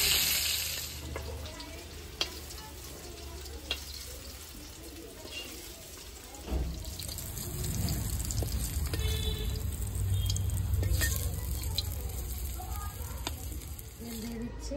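Potatoes frying in hot oil in a home kitchen, a steady broadband sizzle with scattered pops and the scrape of stirring, growing louder and denser about halfway through, with faint clatter of utensils.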